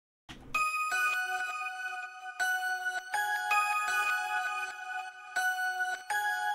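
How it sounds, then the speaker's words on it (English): A bright bell-like pluck synth from the Expand plugin plays a sequence of ringing, harmonic-rich notes with sharp attacks and sustained tails, loud and alone with no voices, in a rave scenecore remix. "It's like a bell pluck type sound from Expand"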